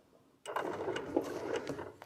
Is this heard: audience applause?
no